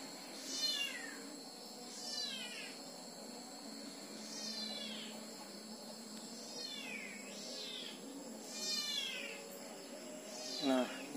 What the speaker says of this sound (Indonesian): Itu kucing berisik banget.